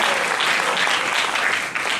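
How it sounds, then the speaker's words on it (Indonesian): A congregation applauds during a church seminar. The clapping is dense and sustained, filling the room at a steady, fairly loud level with only slight swells. "Kalau mau tepuk tangan bagi aku Tuhan Yesus."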